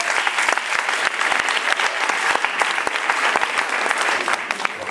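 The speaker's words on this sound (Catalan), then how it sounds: "es mereixen un bon aplaudiment" A school anniversary celebration audience claps for the team behind a student magazine, loud, dense and close applause running continuously with no pause.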